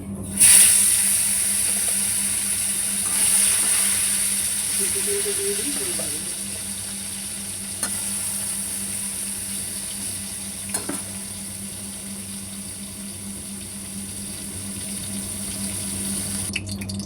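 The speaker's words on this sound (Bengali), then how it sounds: "দেখো কই মাছ ভাজছি" Koi fish (climbing perch) fry in hot oil in a kadai with a steady broadband sizzle under a faint electrical hum, punctuated by a few brief pops and clinks.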